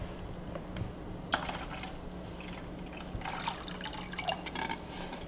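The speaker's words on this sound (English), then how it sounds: "we're gonna dump some water in." Water pours and splashes into a bucket holding a newly bought blue throat triggerfish, a soft trickle with dripping and a louder burst of filling near the end, close and fairly quiet.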